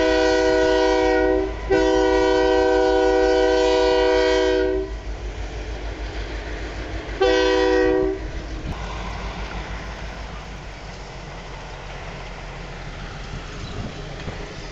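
A train horn blasts twice, long then short, over the deep rumble of Canadian Pacific diesel locomotives pulling a heritage train, followed by steady rolling rail noise.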